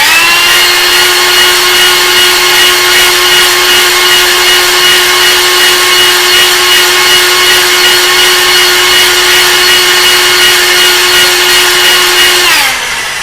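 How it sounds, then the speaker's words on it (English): A ball hone spins at high RPM inside a cylinder bore of a Ford 302 5.0 engine block, driven by a power drill. It makes a loud, steady whine with a grinding hiss for about twelve seconds, then winds down abruptly at the end. "pull your hone out while it's still spinning at high RPM"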